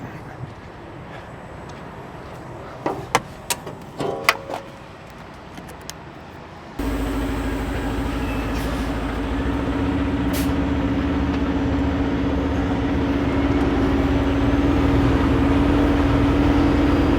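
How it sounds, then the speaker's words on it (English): A train passes near a truck parked by the Pattullo Bridge in New Westminster. After a few clanks, a loud, steady rumble with a droning tone starts abruptly and grows slightly as the train rolls by. "Train coming. Train has been coming and going, so."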